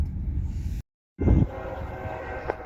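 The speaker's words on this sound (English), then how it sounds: "There is a train coming on the Waukesha sub right now." A northbound train approaching on the Waukesha subdivision rumbles steadily, then after a brief gap a loud horn-like blast sounds, followed by sustained rolling rail noise.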